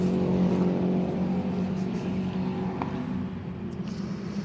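Several 750 Motor Club race cars roar at full throttle around the hairpin at Mallory Park, a dense, sustained engine drone that stays loud throughout with slight swells as cars jostle past.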